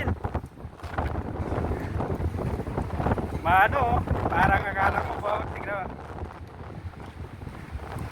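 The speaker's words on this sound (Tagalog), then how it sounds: "Ang lakas ng hangin." Strong wind buffeting the microphone during a nighttime sandstorm, a rough continuous roar that swells midway, while a person speaks over it.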